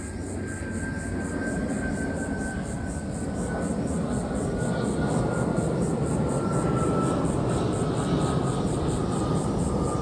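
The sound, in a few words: airplane flying overhead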